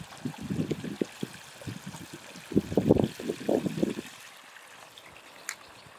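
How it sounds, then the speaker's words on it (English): Water drains off a biochar machine through its drain, producing an uneven series of splashing, gurgling trickles that swell in the middle and then fade to a quiet, thin dribble. "And we're just draining all the water off."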